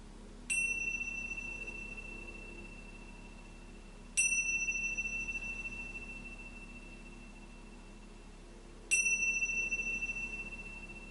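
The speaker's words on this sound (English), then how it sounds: "resting here in awareness now until the sound of the bells." Three clear, resonant meditation bell strikes spaced several seconds apart, each ringing out and slowly fading over a quiet background.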